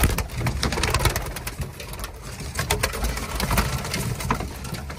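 Several pigeons coo close by in low, throaty rolls, mixed with wing flutters and scuffling in a busy, continuous chorus.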